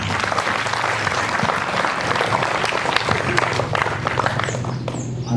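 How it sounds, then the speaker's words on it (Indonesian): Audience applause at a school flag ceremony, a dense, steady clapping from a large crowd filling the whole stretch at even loudness, with no talking over it. "Let's give them warm applause."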